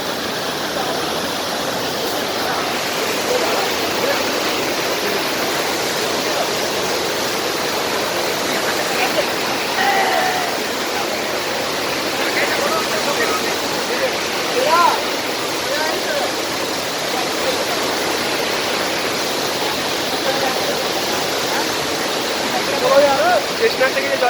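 A stream of cold snowmelt water flowing down from Sheshnag on the Amarnath Yatra route, a steady broadband rushing and splashing close by, continuous and even, with voices faintly present beneath it.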